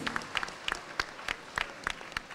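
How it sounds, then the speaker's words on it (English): Applause at an engineering college program in Puthoor, heard as scattered, irregular hand claps from a modest audience, fairly close and moderately loud, with no talking over it. "Big round of applause please"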